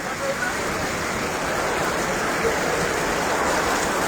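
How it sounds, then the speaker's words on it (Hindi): Heavy rain pours steadily in a village in Sindh, Pakistan, a dense, loud, continuous hiss and patter of water with no breaks. "heavy rain in my village Tando Kesar Hyderabad Sindh"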